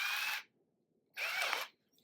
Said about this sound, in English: we're going to put in the wood drill